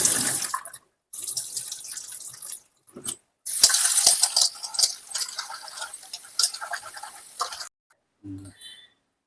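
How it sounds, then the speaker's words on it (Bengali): Sago pearls being washed with several changes of water: intermittent splashing and pouring in bursts, with brief pauses between, close and moderately loud, followed by a few faint clinks. "এই সাবুটাকে আমি জল দিয়ে 3-4 বার জল পাল্টে পাল্টে ভালো করে ধুয়ে নেব।"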